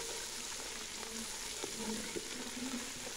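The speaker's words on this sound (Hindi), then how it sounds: "लहसुन अदरक को भी हमने हल्का सा ही फ्राई" Garlic and ginger fry lightly in a pan for a Kabuli chana pulao, giving a soft, steady sizzle with a few faint stirring clinks. It is quiet, and no one speaks.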